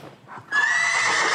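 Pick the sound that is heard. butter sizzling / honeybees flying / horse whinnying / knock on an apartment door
horse whinnying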